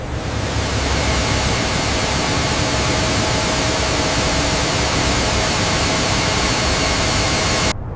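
Engines run at a loud, constant roar that holds steady for several seconds with a faint high whine layered above, then cuts off abruptly at the end.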